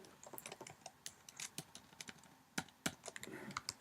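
Rapid, uneven keystrokes clatter on a computer keyboard while someone writes HTML, close and clear with sharp individual clicks and a few louder taps, no voice present.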